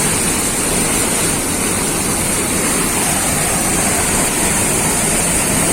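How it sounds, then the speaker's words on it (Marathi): A dam canal carries a strong, fast flow of water, producing a dense, constant roar like a waterfall. It is loud and close, holds steady throughout, and no voices are heard. "कॅनेलला पाणी चालू आहे बघा अतिशय जोरात"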